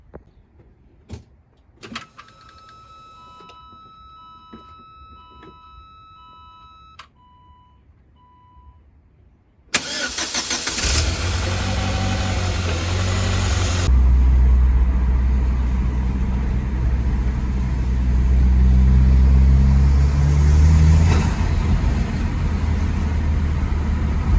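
A 2007 Saab 9-3 2.0 turbo fitted with a BSR intake cranks and fires after a few quiet clicks, then settles into a loud, steady idle with a deep low rumble, close by and with no talk over it.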